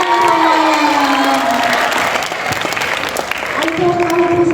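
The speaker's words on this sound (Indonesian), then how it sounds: "Oke, tepuk tangan semuanya." An expo audience at UMJ applauds and cheers loudly, with sustained crowd clapping and a few shouts over a background of tonal sound from the venue.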